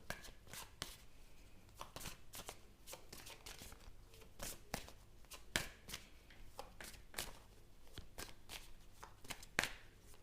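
Tarot cards being shuffled by hand, a quiet, close series of rapid riffling and slapping bursts that repeat irregularly for several seconds with no talking.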